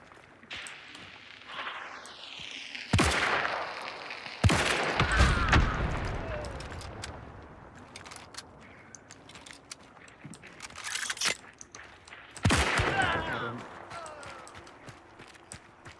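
Gunfire in a video game, several sharp loud bursts of shots spaced through the clip, separated by quieter footsteps and ambient game noise.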